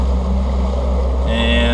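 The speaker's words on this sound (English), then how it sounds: "I got it about 1500 RPM just idling out" A 2019 Tracker Targa V18 motorboat engine idles at about 1500 RPM with a steady low rumble and hum, close by and continuous.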